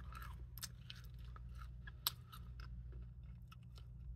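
Close, crisp crunching bites of old, hardened jelly beans in an irregular rhythm, with one sharp louder crunch midway, over a low steady hum.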